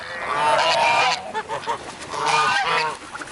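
Several farm geese honk near the feeding area, with two loud bursts of overlapping nasal honks separated by a brief lull of scattered calls.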